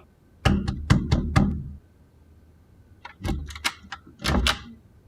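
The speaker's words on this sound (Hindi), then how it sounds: "शहबाज, दरवाजा खोलो।" Someone knocks on a door in a drama scene: a first quick burst of five loud, close raps, a pause, then another run of sharp knocks.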